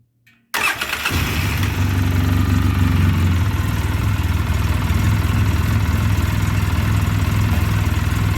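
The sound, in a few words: 2009 Polaris Sportsman 800 ATV engine idling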